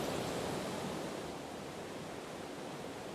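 Standing on the lowest platform beside Rhine Falls in Switzerland, a thick, unbroken roar of falling water fills everything, close and powerful with steady intensity and no speech.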